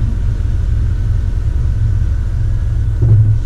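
Mitsubishi Triton 2019 pickup engine while driving, a steady loud low rumble that holds even throughout, rising slightly near the end.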